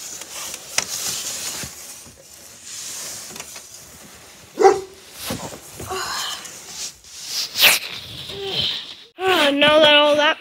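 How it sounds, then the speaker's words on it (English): Dogs bark and yip in short, irregular bursts, some loud and close, among sniffing and other scattered noises, and the bursts grow busier and more intense toward the end. "Dogs are coming."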